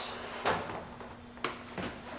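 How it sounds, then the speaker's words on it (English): The metal casing of a Lennox Healthy Climate PMAC mechanical air cleaner on a furnace slides out, giving a few sharp scraping clunks over a faint steady hum, close and fairly quiet, with no talk. "Pull the casing out."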